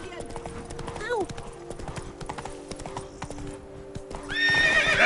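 Roach, the horse in The Witcher 3, clip-clops along at a steady pace with a whinny near the start and a louder neigh at the end, under game music and occasional voices.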